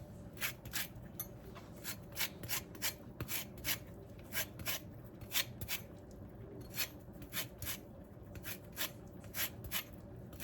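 Food rubbed back and forth over a kitchen grater, giving a steady run of rasping strokes in a quick, even rhythm, close up and alone.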